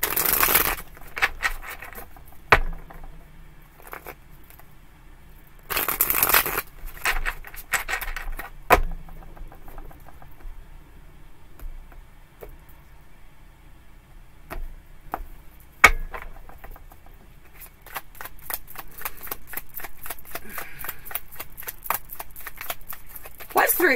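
Tarot cards being shuffled in several quick riffling bursts, with soft handling noises and pauses between, close by.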